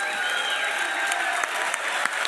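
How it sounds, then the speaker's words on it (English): A standing audience at a new corporate office event in Utah gives a massive round of applause, a steady, full crowd clapping with a few louder single claps standing out near the end. "round of applause."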